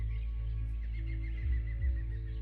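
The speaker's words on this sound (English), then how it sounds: "Cuckoo bird goes cuckoo." A cuckoo calls softly within a calm nature soundscape, its faint hooting notes sitting over a steady low hum alongside scattered chirps from other birds.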